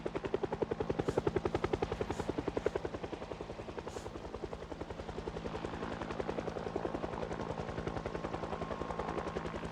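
Helicopter in the video game Project Zomboid flying overhead, a loud steady rotor chop with rapid regular pulsing lasting throughout, close and dominant with no talk.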